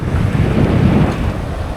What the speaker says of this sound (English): There are not swells here, these are waves.